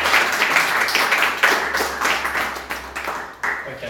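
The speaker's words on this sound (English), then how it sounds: "can you please give Mark a round of applause?" A small gathering claps for Mark, scattered uneven hand claps rising and falling close by, with some voices mixed in beneath.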